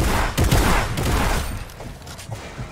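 Rapid bursts of video game gunfire in a competitive team shooter match, several loud cracking shots in quick succession aimed at a wall, with echoing booms that fade toward the end.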